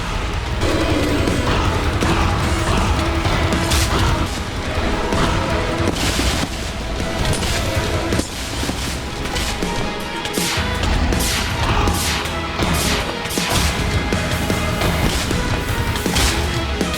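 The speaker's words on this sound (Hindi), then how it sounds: "इसके करीब मैं जा ही नहीं पा रहा, इतना ज्यादा ब्लास्ट कर रहा है ये तो" Wither boss explosions in Minecraft, loud and continuous, with dense booming blasts and crashes piling up over the whole stretch and no clear pauses.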